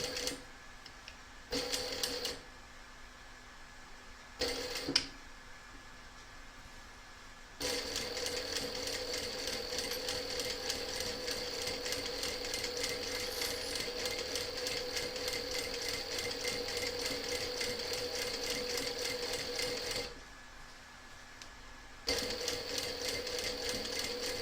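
A sewing machine stitches through a raggy quilt in a long, steady mechanical whir, with short bursts near the start and a brief pause before it resumes toward the end.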